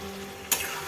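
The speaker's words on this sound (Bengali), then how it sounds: "এই যে দেখো মানে চিকেনটা এখন কষানো এটা হচ্ছে" Chicken sautés (kosha style) in a pan with a continuous close sizzle, broken midway by one sharp stirring clatter, and no talk.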